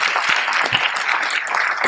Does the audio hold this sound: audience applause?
yes